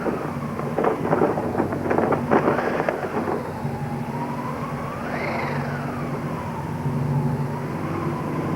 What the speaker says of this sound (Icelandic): Það fór að hvessa og bláleit óveðurský geystust í átt til þorpsins